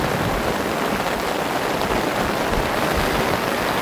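Steady, dense rain pours down over an outdoor soccer match between U-15 boys' teams, a loud unbroken hiss of drops on surfaces close by, with no voices audible.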